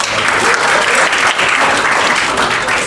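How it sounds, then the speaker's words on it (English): Steady, dense applause from a crowd fills the whole stretch, loud and close, with no voices over it. "So applause to you."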